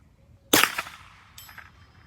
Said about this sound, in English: Ruger precision rifle doesn't let you down that often